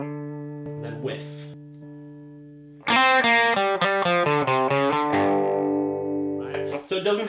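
Electric guitar through a Boss distortion pedal set as a boost, first a sustained clean-ish chord fading, then louder, slightly gritty chords strummed in a rhythmic pattern, close and prominent with a ringing sustain at the end.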